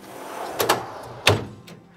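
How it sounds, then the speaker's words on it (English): Slide-out table and drawer in a vehicle cargo area, giving a few short sliding knocks and clunks close by, one louder thud near the middle, over quiet background. "You've got a nice little convenient slide out table over here, and that and the drawer work separately."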